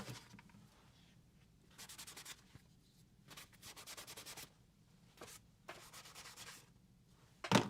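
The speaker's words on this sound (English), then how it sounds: "I am just going to get a little oil on this rag" An oily rag rubs black marks off a metal vise in several short bursts of soft scrubbing friction, quiet and close, separated by pauses, ending with one sharper brief scrape.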